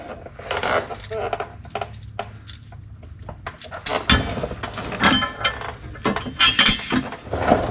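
Metal flat washers and leaf spring bolts on a Sprinter van chassis bracket clink and jingle in scattered bursts as they are fitted, close by, with occasional speech.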